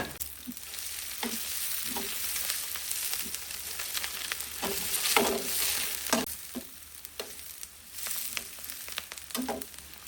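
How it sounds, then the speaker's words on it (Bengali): Onion and green chillies sauté in a hot pan, a steady close sizzle broken by repeated scraping stirs of a spoon against the metal. "পেঁয়াজ এবং কাঁচামরিচ যখন একসাথে সতে করবেন খুবই চমৎকার একটা গ্রান আসবে"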